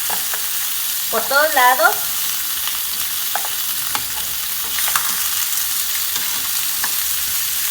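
Chicken pieces for a stovetop chicken and potato stew searing in a pan, a steady broadband sizzle running throughout with occasional stirring clicks, and a voice briefly speaking over it.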